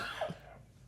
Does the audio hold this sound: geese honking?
no